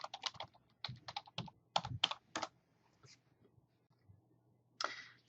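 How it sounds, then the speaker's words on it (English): Login credentials typed on a computer keyboard: quick bursts of crisp key clicks in short runs with brief pauses, close and moderately loud, ending in a slightly longer, heavier keystroke. "So I'm going to type mine."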